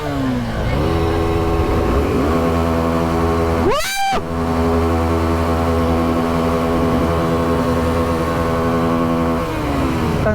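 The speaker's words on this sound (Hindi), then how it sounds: "RPM limiter." A Suzuki V-Strom adventure motorcycle on an off-road ride day has its engine held high against the RPM limiter, a loud, steady, buzzing drone close by, briefly swept by a rising whoosh midway.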